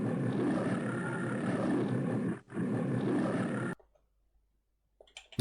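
A loud, sustained animal roar rumbles for several seconds, breaks briefly, resumes, then cuts off abruptly into near silence.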